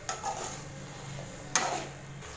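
A spoon scrapes and clatters in a pan while brinjal masala is mixed and sautéed, with two sharper metallic knocks over a soft background hiss, close by.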